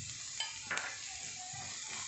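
Onions sauté in a pan with a steady, soft hiss of frying, broken by a few brief stirring scrapes, heard close but quiet.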